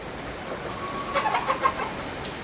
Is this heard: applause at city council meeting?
no